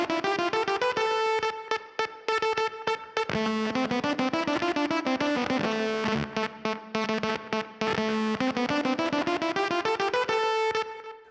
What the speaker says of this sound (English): it kind of feels like it's a synthesizer, but you can hear every note is a bit different, and that's because it's a guitar